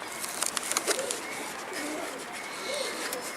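A bird with an eye tumour gives soft, low cooing calls close by while being handled, mixed with faint rustling and brief scuffling noises.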